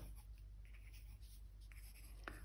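A pencil scribbles small loops on paper while shading tree foliage in a beginner's drawing, giving a steady, close, continuous scratchy rasp with no pauses and no talking.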